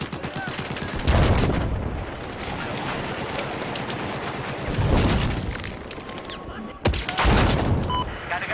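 Heavy bursts of gunfire and rocket blasts from a Battlefield-style military shooter on the Golmud map, with booming explosions in three big waves over continuous rattling fire, loud and close, while someone talks over the fighting.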